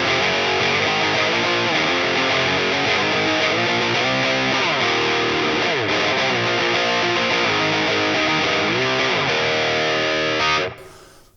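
Distorted electric guitar run through a Two Notes Opus amp simulator using its EL34 preamp, miked with a 57 and a ribbon: a dense, sustained riff played loud and continuously before stopping abruptly near the end.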